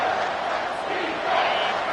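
A stadium crowd in the College Football 25 video game roars loudly and steadily throughout, a dense wall of cheering and shouting from a home crowd in a Cornhuskers vs Trojans matchup.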